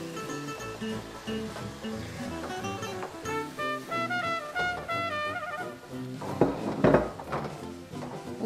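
A plate and frying pan clinking and scraping as a jurel fish tortilla with vegetables is flipped back into the pan, light metallic and ceramic knocks under background music, with a louder clatter near the end.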